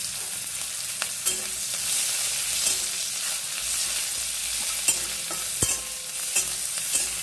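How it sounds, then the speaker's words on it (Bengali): Chopped onions fry in a pan with a steady broadband sizzle, punctuated by several sharp scrapes and clicks of stirring, close and fairly loud, with no talking. "পেঁয়াজটাকে আমি ভেজে নেব"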